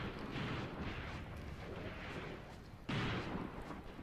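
Distant gunfire and artillery in the war game Graviteam Tactics, 2nd Battle of Kharkov: muffled booms and thuds repeat irregularly, with one stronger blast near the end.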